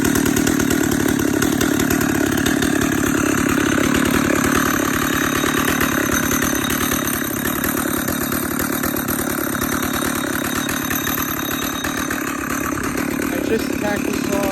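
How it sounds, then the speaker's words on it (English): A Stihl 056 Magnum II chainsaw idles steadily while warming up, a loud, close, continuous two-stroke engine drone with a slight dip in level partway through. "I'll get this saw warmed up and I'll bring it out and make a few cuts with it"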